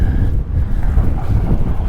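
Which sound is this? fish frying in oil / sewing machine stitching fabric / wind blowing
wind blowing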